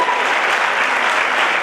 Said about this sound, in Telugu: మరి వాళ్ళందరి శ్రమకి మనం ఒకసారి గట్టిగా చప్పట్లతో